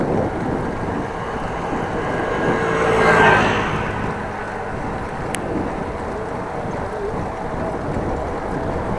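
A headwind buffets the microphone while cycling a road near Groningen on a mild day, a steady broadband rushing roar that swells briefly in the middle and carries on throughout, with no talk.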